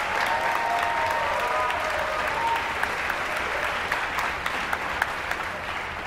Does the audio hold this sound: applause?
yes